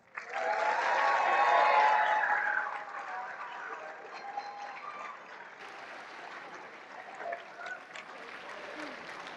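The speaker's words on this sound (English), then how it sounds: "Let's give them a round of applause." A school audience applauds students brought up front during a visit by the Utah governor to Wasatch High School, a loud burst of clapping that fades after a few seconds into quieter scattered claps with voices murmuring beneath.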